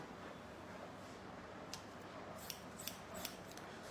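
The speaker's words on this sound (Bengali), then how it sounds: "আমি চুল কাটছি" Scissors snipping hair during a long butterfly layered haircut in a beauty salon, faint quick metallic clicks and rubbing near the close microphone, several small snips in the second half and no talking.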